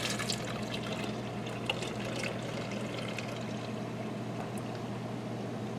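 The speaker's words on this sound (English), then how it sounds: "I'm going to try to put this in just to my blender cup now, just so I can pour it into a" Liquid cocktail mixture poured into a blender cup, a soft continuous trickling and splashing stream that runs quietly for several seconds, with no voices.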